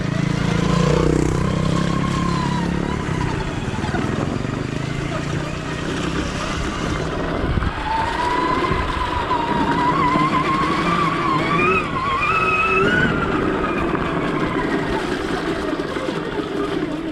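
Loud, continuous roar of revving petrol trials motorbike engines rising and falling in pitch, close by and filling the whole stretch, with a few voices faintly underneath.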